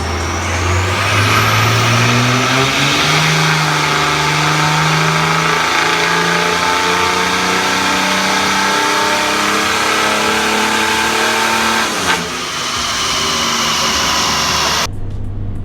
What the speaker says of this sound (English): These engines can get pretty loud at the higher RPMs.